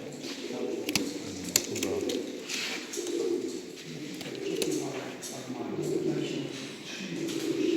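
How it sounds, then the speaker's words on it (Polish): Pigeons coo softly in a low, rolling murmur at an indoor racing pigeon show in Potępa, with steady crowd chatter underneath and occasional clatters. "Dużo niebieskich gołębi."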